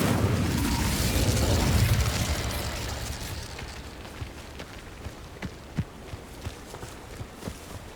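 An Incendio fire spell goes off in Hogwarts Legacy as a loud, rushing burst that swells for about two seconds and then fades, followed by quieter scattered footsteps and small pops.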